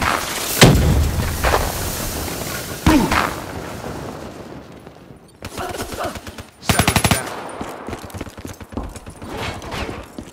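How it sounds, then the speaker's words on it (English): A grenade goes off during Call of Duty: Black Ops III multiplayer, one sharp blast among loud bursts of rapid gunfire and clattering combat effects, with a voice shouting a warning in the game. "Grenade, get cover!"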